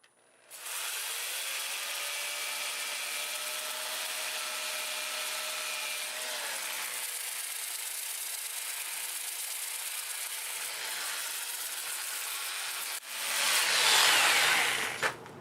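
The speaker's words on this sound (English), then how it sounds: "I can do it all with my 2-inch disc, and I'll start with 80 and work my way up to 400" A wild cherry bowl on the lathe is worked with a 2-inch sanding disc, producing a loud continuous whirring drone with a steady rushing hiss that runs unbroken, then swells briefly near the end before cutting off.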